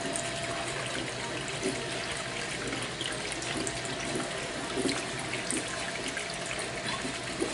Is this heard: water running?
yes